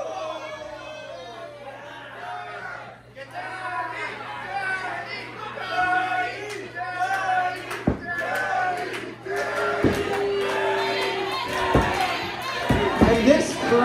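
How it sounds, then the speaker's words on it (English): A crowd at an indie wrestling show chants and cheers in rising rhythmic waves, with loud thuds from the ring cutting through and a commentator talking over the noise. "this crowd is firmly getting behind Danny D."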